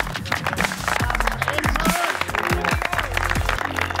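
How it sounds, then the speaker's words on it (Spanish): An audience on a Rouser pro-am championship competition show applauds an eliminated contestant, with dense, busy clapping heard under loud cheering voices and talk. "es Raymond a quien le damos un fuerte aplauso"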